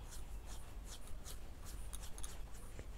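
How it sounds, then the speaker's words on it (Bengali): Chillies being ground by hand on a stone slab (shil), a steady gritty scraping and rubbing with repeated brief strokes, close and fairly quiet over a low rumbling background. "লঙ্কাগুলো বেটে নিচ্ছি শিলে"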